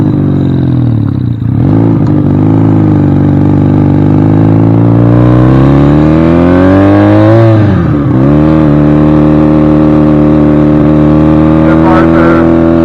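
A supercharged Honda CL175 motorcycle is ridden out onto the road with its engine loud and close. The revs rise and fall as it pulls through the gears, and a voice talks over it.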